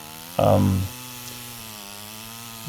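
A chainsaw cuts wood into short bowl blanks in a workshop, a brief loud burst of engine and cutting that drops back to a steady idle hum, with a faint renewed rise at the end.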